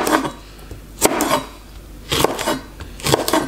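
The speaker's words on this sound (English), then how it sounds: "Then chop them up" A knife chops red and green chili peppers on a cutting board in quick bursts of several sharp knocks, separated by short pauses, close and clear with no talk.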